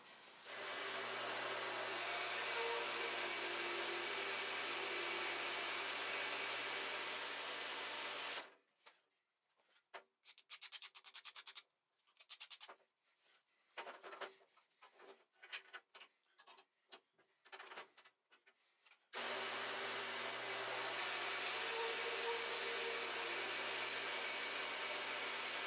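A power saw runs steadily and loudly while cutting wood pieces for a drilling jig, cuts out for several seconds of scattered clattering and knocking, then roars back up at full volume.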